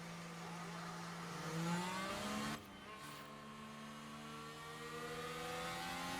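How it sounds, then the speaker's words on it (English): Race cars in F1 Manager 2024 drone past in a continuous layered engine roar, pitch gliding as they overtake, with a brief dip and sharp shift partway through. "So lap cars are now overtaking the rest of the grid."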